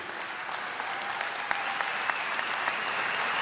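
Steady crowd applause fills a large hall at the SBC convention, dense continuous clapping with occasional sharper claps standing out, no talk over it.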